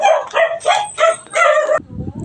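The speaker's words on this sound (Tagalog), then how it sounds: "nagsiangayan ng aking mga aso" Several dogs at a rural home bark in quick repeated bursts, close and loud, about four rapid volleys before falling quiet into faint background noise.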